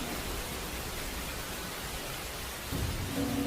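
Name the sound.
heavy rain with thunder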